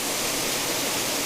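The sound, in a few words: waterfall at Lochgoilhead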